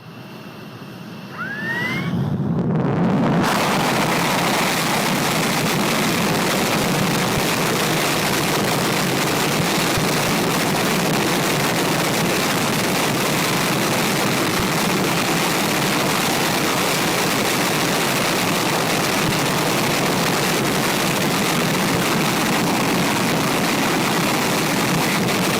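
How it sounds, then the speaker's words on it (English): An F-16 fighter jet on an engine test at full afterburner roars close up. After a quiet moment the blast comes in and holds a loud, broad, constant rushing roar for over twenty seconds. "This F-16 doing an engine test with full afterburner, burning 11 liters of fuel per second."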